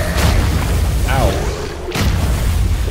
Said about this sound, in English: I just blew up a bunch of poison.